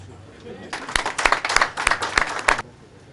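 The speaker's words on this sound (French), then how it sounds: "Je demande d'applaudir." Audience applause at a 2013 party school launch event, a burst of clapping rising sharply and holding for about two seconds before stopping, with a few louder individual claps standing out.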